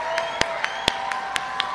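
At the 2022 USC Annenberg commencement ceremony, an audience applauds graduates, with scattered loud individual claps standing out above a steady wash of crowd noise.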